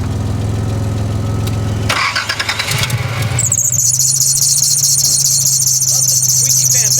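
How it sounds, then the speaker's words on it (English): A turbocharged car engine idles with a loose fan belt squealing, a sharp high chirp that kicks in after a few seconds and holds steady over the running engine; a brief burst of noise comes just before it. "Love the squeaky fan belts"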